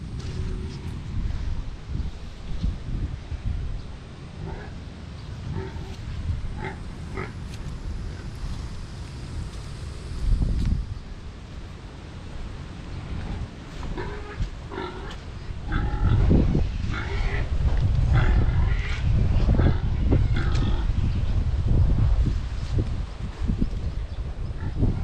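Strong wind roars and buffets the microphone throughout, growing heavier in the second half, with scattered knocks and faint animal sounds in the background.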